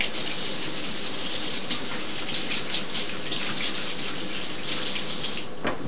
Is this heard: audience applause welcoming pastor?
no